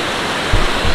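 Dense, steady roar of rushing water from the Titi Kerawang waterfall on Jalan Teluk Bahang at night, loud and continuous, filling the air with no voices.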